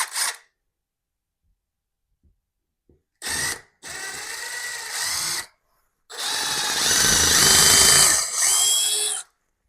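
A power drill whirs in several bursts, short at first, then longer runs with a rising whine as the bit bites into overhead wood while mounting a ceiling TV mount, close by.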